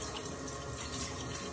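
Cold water runs steadily from a tap into a sink for rinsing, a brief even gush and splash with no voices.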